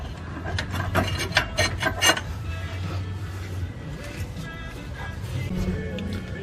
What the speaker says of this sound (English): go ahead and take off the rotor